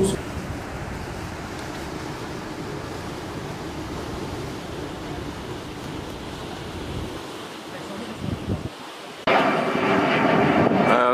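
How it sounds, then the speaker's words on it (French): Airplanes roar loudly overhead in a town on Santorini, a steady broad engine rumble that swells even louder near the end, with a brief dip in between. "Son inconvénient ici, ce sont ces putains d'avions qui font un raffut."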